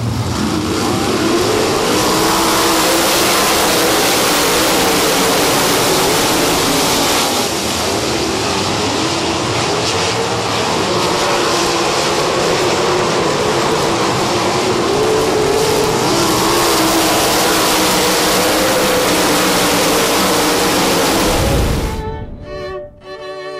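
Race cars roar around a small quarter-mile oval at Golden Triangle Raceway Park, a loud continuous engine drone from a pack of cars that holds steady for about twenty seconds before cutting off sharply near the end.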